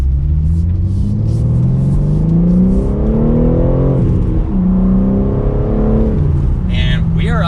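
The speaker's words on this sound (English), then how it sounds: "let's do small acceleration from second gear." A 2022 BMW M3 with a six-speed manual pulls in second gear, its engine rumble rising steadily in pitch, dipping briefly, then climbing again, loud and close with a continuous roar.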